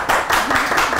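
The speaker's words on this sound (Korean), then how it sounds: "박수 한번 칠까요?" A small group claps their hands together during a Korean heritage travel show, producing a brief burst of dense, overlapping claps at close range with no speech over it.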